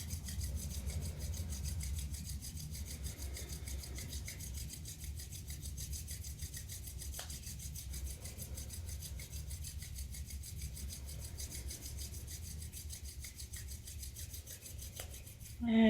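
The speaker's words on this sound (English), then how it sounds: "let's rub the palms together. Nice and vigorously." Palms rub together vigorously during a kriya breathing and energy exercise, a steady, close, continuous swishing friction that runs unbroken for about sixteen seconds, with no talking.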